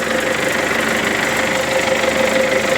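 An MTZ 892 tractor engine runs steadily at idle, a loud, continuous mechanical drone with a low rhythmic knock throughout.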